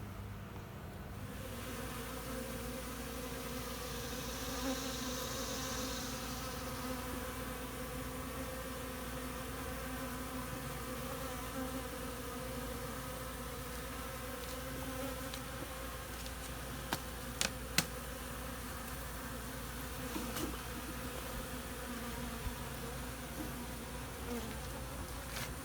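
Honey bees buzzing at a hive during winter feeding on dry sugar, a steady faint drone of many wings that continues evenly throughout, with a few soft clicks toward the end and no talking.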